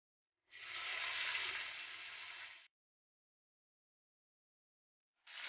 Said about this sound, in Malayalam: ബാക്കിയുള്ള ഈ വെളിച്ചെണ്ണയിലേക്ക് നമുക്ക് ചിക്കൻ പീസ് ഇട്ട് കൊടുക്കാം